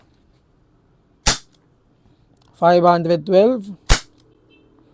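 A CO2 airsoft revolver, a WE or WG model, fires two sharp, loud cracks a few seconds apart, with a voice speaking briefly between the shots.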